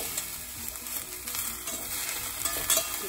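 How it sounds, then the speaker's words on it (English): Broccoli florets stir-frying in ghee in a pan give a soft, steady sizzle, faint and even, with light scraping of stirring. "Stir the broccoli florets very nicely so it has all the ghee on them."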